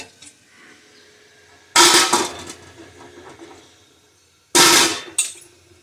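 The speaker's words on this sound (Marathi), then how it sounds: "आता इकडे मी एक पातेला ठेवलं आणि वरती ही मोदक पात्र ठेवले" Two loud metallic clanks as a pot and then a modak steamer are set down for boiling amla, with quieter clinks and handling sounds between them.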